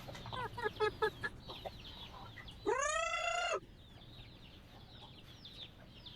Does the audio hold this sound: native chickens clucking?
yes